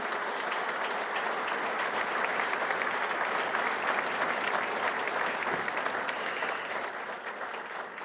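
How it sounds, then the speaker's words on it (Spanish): An audience at a year-end dinner gala bursts into sustained applause, a dense, steady roar of clapping hands filling the room for about eight seconds before easing slightly at the end. "quiero pedir un fuerte aplauso"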